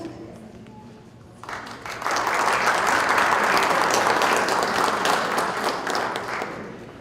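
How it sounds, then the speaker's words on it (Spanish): After a quiet moment, an audience at a journal presentation breaks into loud, full applause that swells quickly and holds steadily, with a few sharp individual claps standing out. "Démosle un fuerte aplauso."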